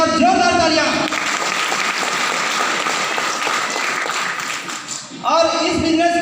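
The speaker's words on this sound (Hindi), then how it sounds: "इन सभी गुरुओं के लिए एक बार जोरदार तालियां" An audience at a business gathering breaks into sustained, dense applause lasting several seconds, with a speaker's voice just before and after it.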